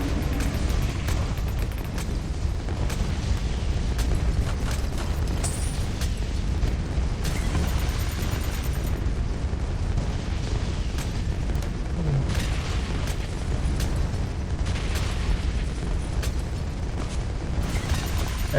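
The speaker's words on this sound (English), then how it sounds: "Speaking of explosions, let's get a lot of them and one big one." Dense, continuous barrage of many explosions in the tower defence game Bloons TD 6, booming and popping without pause at a steady loud level, with no talking.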